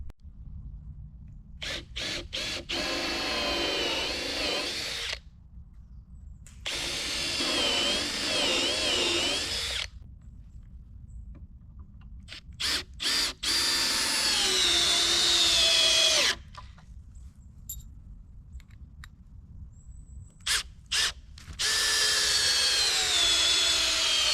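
Cordless screwdriver driving screws into the wooden frame of a garden sauna, several loud whirring bursts of a few seconds each separated by silent pauses, with no talking.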